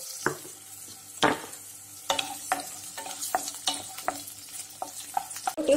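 Onion and capsicum fry softly in a kadai while a spatula scrapes and taps against the metal in irregular strokes, with a quiet sizzle between them.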